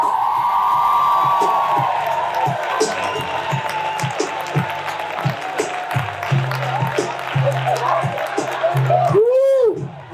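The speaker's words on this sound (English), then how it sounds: "thunderous round of applause." An awards luncheon crowd breaks into applause and cheering after a charity date-auction bid, with claps, whoops and shouted voices building to a loud, rising whoop at the end.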